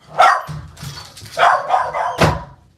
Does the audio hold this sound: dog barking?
yes